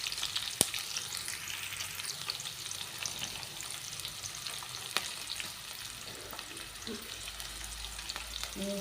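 Onions and tempering spices fry in a pan for a tomato egg curry, giving a soft continuous sizzle with a few light clicks and stirring scrapes, quiet and close, with no talking.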